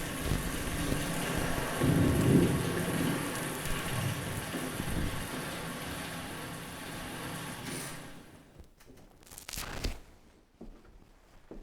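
Steady rain falling as a broad hiss that swells and then fades away, leaving quieter scattered sounds at the end.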